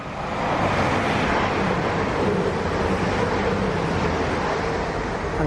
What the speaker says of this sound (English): A train is a train